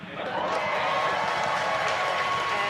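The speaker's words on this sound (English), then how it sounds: "obviously confirmed by the loud cheer behind us here at Mission Control" A crowd at Mission Control cheers and applauds during the Polaris Dawn rocket launch, a dense and steady roar of voices and clapping that swells in quickly and holds loud throughout.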